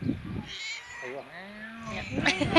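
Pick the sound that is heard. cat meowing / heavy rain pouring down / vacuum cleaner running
cat meowing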